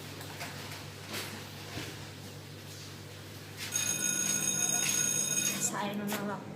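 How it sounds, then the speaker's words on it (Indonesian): A telephone starts ringing partway through, a bright electronic trill that cuts in over low background hum and murmuring voices in a room. "Telepon tuh, telepon"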